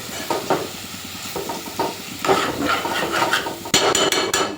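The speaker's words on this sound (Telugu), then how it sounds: "బాగా చిటపటలాడుతుంది కదా" Prawns and tamarind leaves crackle in hot oil while being stirred, with scraping strokes and bursts of sizzling that grow louder and denser toward the end, close by and with no talk.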